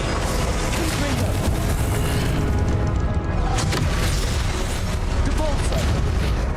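The Confringo explosive curse in the video game Hogwarts Legacy booms amid dense, loud continuous combat noise, with rumbling blasts layered over battle effects and no clear speech.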